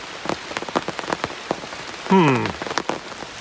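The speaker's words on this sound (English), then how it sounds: "it's quite heavy rain." Heavy rain pours steadily outdoors at a bottle-digging site, a dense patter of drops striking surfaces close by, with a brief squeaky sweeping sound partway through.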